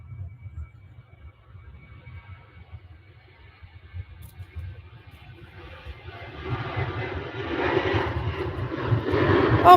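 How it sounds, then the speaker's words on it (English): A Ryanair airliner hurtles down the runway on its takeoff roll at Manchester Airport, a low engine rumble building into a louder, broader roar over the last few seconds. "Ryanair on the runway, hurtling down it"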